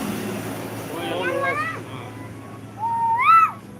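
A child mimics the rising, repeated call of an Asian koel with his voice, two drawn-out whistling phrases separated by a short pause, close and fairly loud over a faint background hum.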